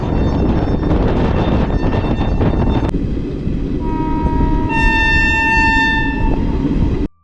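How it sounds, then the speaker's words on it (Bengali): A passenger train runs at night, its loud rumble and rattle of wagons carrying on close by, then a long sustained horn blast sounds over the running noise before it cuts off. "ওদিকে ট্রেন ছুটে চলল শ্রীরামপুর, শেওড়াফুলি, চন্দননগর ছাড়িয়ে চুঁচুড়ার দিকে"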